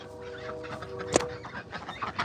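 Homestead chickens in northern Canada clucking softly near and far, with one sharper louder cluck standing out amid a low, busy murmur of farmyard sound.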